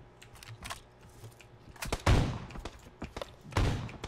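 Gunfire in the battle royale game PUBG, with several loud bursts of shots and sharp booms and scattered single reports in between, mixed with game ambience.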